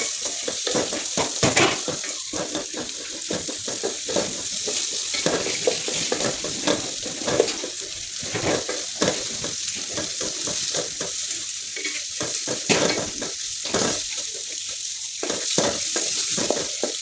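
Chopped onion frying in soybean oil in a cooking pot, a steady broad sizzle with scraping stir strokes throughout, close and fairly loud, no talking.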